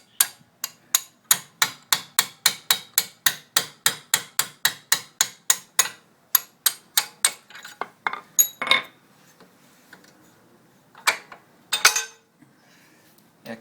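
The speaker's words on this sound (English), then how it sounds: "And your trusty hammer." A hammer strikes a metal punch in a fast, steady run of about twenty-five sharp ringing blows, driving out a bolt during a Suzuki GS500 rear shock conversion, then a few scattered clanks as the rhythm breaks off.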